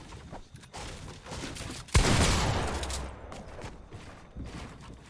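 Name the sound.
gunfire in the video game Fortnite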